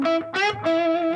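Electric guitar played softly through a Pigtronix Philosopher's Tone Micro compressor pedal, a few sustained clean notes ringing out close, alone with no talk.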